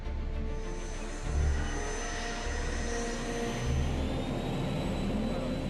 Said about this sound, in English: The aircraft accelerates to over 250 kilometers per hour for its first takeoff.